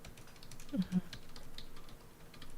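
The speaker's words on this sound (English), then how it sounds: "Talk to him while I'm typing, Tech." Someone types on a computer keyboard, producing quick, close, irregular key clicks in a steady run, with a couple of faint, brief vocal sounds in the background.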